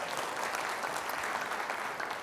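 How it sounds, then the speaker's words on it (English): A small audience claps briefly and evenly at a storytelling show, fairly faint and steady, with no voices over it. "You can clap on that."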